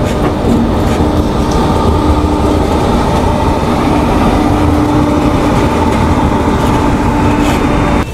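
Sampark Kranti Express train running steadily on the rails in India: a loud, continuous rumble of wheels and carriage noise with a rhythmic clatter throughout, heard from inside the moving train.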